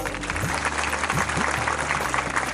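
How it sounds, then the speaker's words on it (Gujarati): Audience applause for a guru at a Swaminarayan temple idol-installation ceremony, a dense steady wash of clapping across the whole moment with a low hum beneath and faint voices mixed in. "કપિલ સ્વામીના ગુરુને એકવાર તાળીના નાદથી વધાવો."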